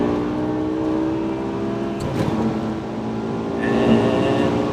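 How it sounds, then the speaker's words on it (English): A BMW E63 M6 V10 in second gear pulls hard to the red line, a loud, sustained engine drone heard from inside the car that climbs steadily with a brief dip near the shift, then rises again. "So second gear pull again. Right, round to the red line."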